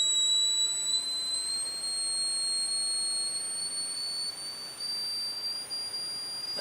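A 555 timer tone generator circuit emits a steady, thin, piercing tone that slowly glides upward in pitch over a faint hiss, with no talk.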